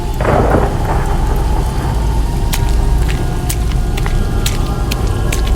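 Steady heavy rain pours throughout, with sharp crackles and rumbles of thunder breaking in repeatedly over the dense downpour.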